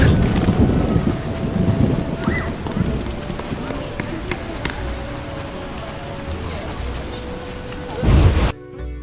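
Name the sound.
heavy rain and thunder in The Witcher video game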